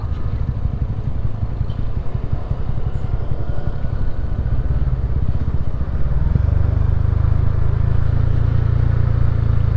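Motorcycle engine droning steadily while riding on a small, potholed road, using engine braking; loud, continuous low rumble close to the mic, without speech.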